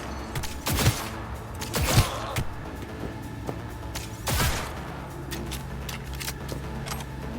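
Heavy gunfire in Cyberpunk 2077, a few sharp loud bursts spaced apart over low ambient game noise and mechanical rumble.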